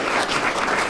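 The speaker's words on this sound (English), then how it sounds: "Let's clap for the PF" An audience claps for the PF at an alumni interview event, a short burst of dense, even applause close by, with no break in the clapping.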